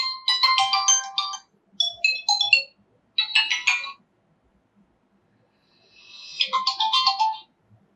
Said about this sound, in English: Now from here, you can choose from the default ringtones on your smartphone.